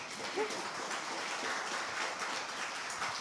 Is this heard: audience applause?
yes